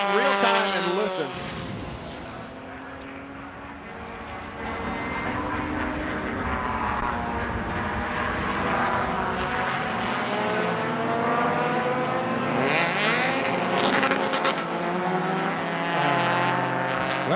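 A race car's engine revs hard at full throttle after the car flips upside down at a 2005 Phoenix race, a loud sustained roar with rising and falling harmonics, heard under commentary and crowd ambience.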